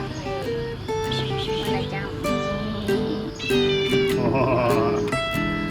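A cat in Thailand meows repeatedly over steady background music, with several drawn-out, rising meows close to the microphone, the loudest toward the end.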